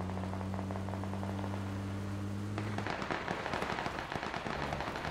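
Heavy gunfire around a house in PUBG: dense, crackling shots pile up into a steady barrage over a low engine-like hum, moderately loud and continuous.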